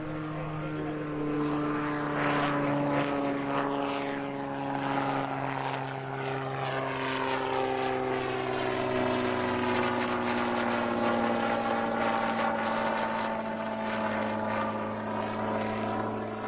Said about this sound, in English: This is the Electric Eel, a hybrid electric testbed based on the Cessna 337.